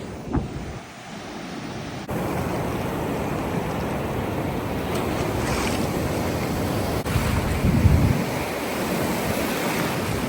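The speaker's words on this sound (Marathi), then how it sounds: "इतक्या मोठ्या मोठ्या लाटा येतात" Ocean waves wash continuously onto a Goa beach: a loud, steady roar of surf with swells rising and falling, heard close by with wind buffeting the microphone and no voices.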